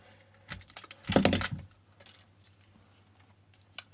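Tape being cut and pulled away on an ebike battery pack during a teardown, a brief cluster of crackly, scratchy sounds lasting about half a second, then a faint low hum with a small tick near the end.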